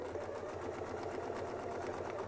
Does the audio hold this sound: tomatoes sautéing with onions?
no